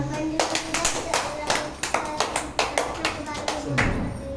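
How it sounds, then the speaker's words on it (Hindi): A group of children claps together in a steady rhythm for several seconds, with some faint chatter underneath. "चलो दीदी के लिए ताली बजाओ सब"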